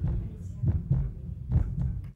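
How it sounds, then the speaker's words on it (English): A giraffe's heartbeat, amplified for a children's museum exhibit, thumps low and muffled in slow repeating beats over a steady dull hum. "From the heartbeat of a giraffe"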